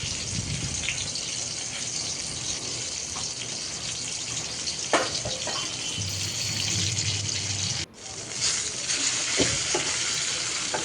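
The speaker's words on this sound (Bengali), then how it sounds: "তারপরেই তো মাছগুলো আমি ভেজে নিচ্ছি।" Fish frying in a pan, a loud continuous hiss and crackle of hot oil held close throughout, with a few utensil knocks and a brief dip before the sizzle resumes, no talking.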